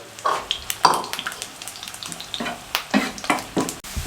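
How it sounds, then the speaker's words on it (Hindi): Onions sautéing lightly in hot oil, crackling and hissing in bursts as they are turned, with clattery stirring strokes close by and no speech. "हमने प्याज को सोते कर लिया, हल्का सा फ्राई कर लिया"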